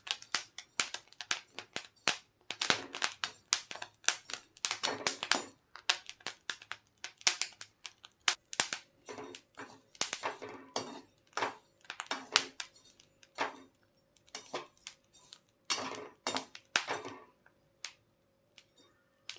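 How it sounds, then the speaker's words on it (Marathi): Sorghum (jowar) grains stirred in hot salt in a pan, a dense run of sharp close pops and ticks firing irregularly with scraping stirs between them. "हलवत यासाठी राहायचं की वरती आलेली ज्वारी त्या मिठामध्ये मिक्स होईल आणि तिची लाही तयार होईल"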